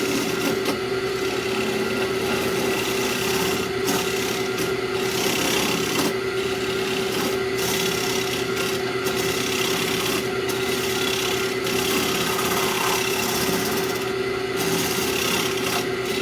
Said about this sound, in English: I'm going to try this Sorby side scraper.